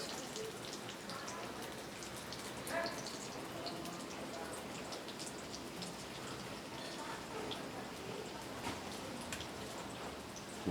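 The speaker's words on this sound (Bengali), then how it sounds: "আমার তেল গরম হয়ে গেছে এর মধ্যে আমি স্যান্ডউইচগুলো দিয়ে দিলাম একসাথে আমি দুটো দুটো করে ভেজে নিচ্ছি" Potato-egg bread sandwiches, two at a time, frying in hot oil, giving a steady, dense, fine crackle like light rain that holds evenly throughout at a low, close level.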